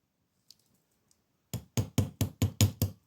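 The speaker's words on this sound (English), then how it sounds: "I'm just going to lightly hammer it so that it will keep its shape more." A hammer lightly taps a wire-wrapped hoop earring on a hammer block: after a couple of faint clicks, seven crisp, evenly spaced close strikes ring out in a quick steady rhythm.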